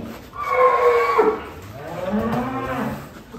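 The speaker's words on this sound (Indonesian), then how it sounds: "Sapi kelas premium dengan kualitas super sebenarnya." Premium cattle on a farm let out two long, deep moos one after the other, loud and close, with no talking over them.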